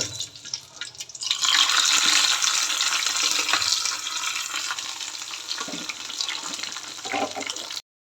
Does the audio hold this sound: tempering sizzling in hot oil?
yes